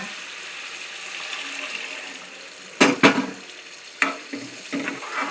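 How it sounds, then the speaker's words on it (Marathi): Pea cooking water is poured into misal frying in a pan and stirred. A steady sizzle breaks into a few sharp bursts of splashing and scraping near the end. "सगळं वाटाण्याचं पाणी पण टाकूया आपण।"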